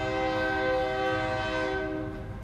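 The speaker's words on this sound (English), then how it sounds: "there's my train." A passing train sounds its horn in one loud, steady, multi-tone blast held for the whole stretch, with a low rumble of the rails underneath, close by and fading slightly at the end.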